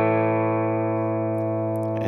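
A Nash T57 Telecaster played clean through a Morgan RCA35 amplifier rings out as one sustained chord, bright and steady, fading slightly over two seconds.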